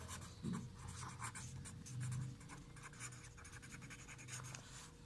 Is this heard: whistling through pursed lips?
no